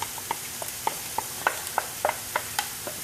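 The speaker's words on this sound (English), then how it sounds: "you hear the sizzle? That's what you want to hear." A gentle continuous sizzle of herbs and vegetables sweating in a frying pan for spaghetti sauce, punctuated by regular light taps and clicks of stirring.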